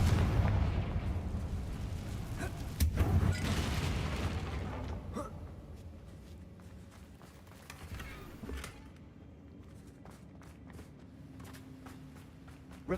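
Confringo fire spell blasting in Hogwarts Legacy, a muffled explosive burst with crackling debris near the start, followed by scattered softer thumps and footsteps at low level.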